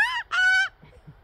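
A noisy pet bird makes two loud, close honking calls in quick succession, followed by faint rustling.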